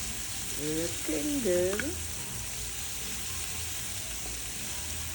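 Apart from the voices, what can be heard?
vegetables frying in olive oil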